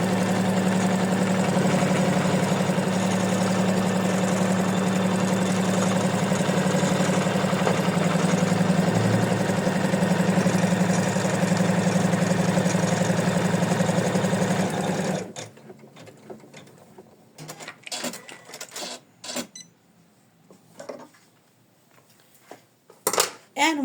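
A sewing machine stitches a placement line on a fabric postcard, humming and whirring continuously for about fifteen seconds before stopping, followed by scattered handling clicks and knocks.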